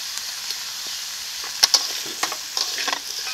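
Pumpkin curry seasoned with salt and turmeric fries in a pan with a steady close sizzle, while a spoon scrapes and stirs it in scattered clicks and knocks.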